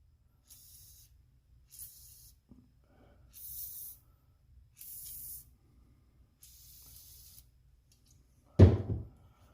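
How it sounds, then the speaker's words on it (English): Penetrant spray from an aerosol can hitting the valve tops of an LS engine during teardown, five short hissing bursts spaced a second or so apart, then a sharp louder clunk at the end. "just spray the top of the valves where the keeper"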